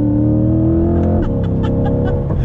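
A 2020 Chevrolet C8 Corvette engine roars loud and close, holding a deep, strong drone before climbing and dropping through quick revs, with no talking over it.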